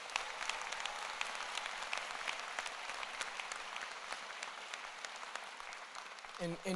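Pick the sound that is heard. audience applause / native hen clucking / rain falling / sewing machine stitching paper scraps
audience applause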